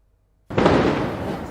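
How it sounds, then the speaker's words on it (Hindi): Diwali fireworks and firecrackers burst at night in Delhi, a sudden loud crackling blast after brief silence that rumbles on through the rest of the clip, with no talk. "पाबंदी के बाद भी दिवाली की रात चलते रहे पटाखे।"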